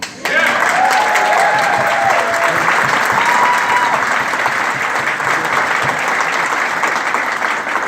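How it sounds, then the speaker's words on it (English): An audience at a birthday celebration for James Carter breaks into loud, sustained applause, a thick roar of clapping with cheering voices, holding steady for several seconds. "Give James Carter a round of applause."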